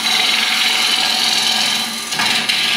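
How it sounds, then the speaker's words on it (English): A wood lathe with a turning tool cutting into a spinning wooden blank for a kuksa cup, giving a loud, steady, rough scraping hiss that dips briefly near the end before resuming. "So enter the wood, establish a shoulder, rub the bevel on the shoulder"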